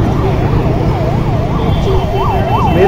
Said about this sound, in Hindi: देख लो एम्बुलेंस